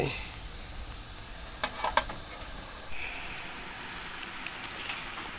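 A curry of sweet vegetable leaves and red ant eggs simmering in a covered pot, giving a steady hiss and bubbling with a few faint clinks, close by.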